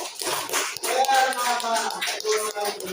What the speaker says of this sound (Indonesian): kita tepuk tangan buat kelompok